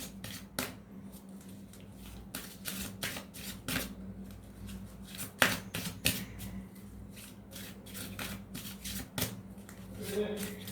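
Tarot cards are drawn and handled from a deck, making a series of soft, crisp flicks and snaps at irregular intervals over a quiet room background.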